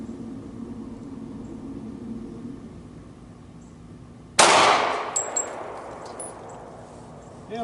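A single loud, sharp report from a Kahr .45 pistol on an outdoor range, followed by a ringing metallic clang and a decaying tail, after several seconds of quiet background rumble.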